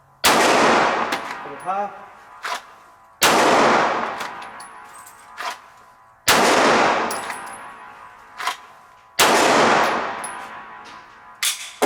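A handgun fires at a target during a shooting drill: four loud, sharp shots about three seconds apart, each with a long reverberant tail outdoors. A voice briefly speaks between shots.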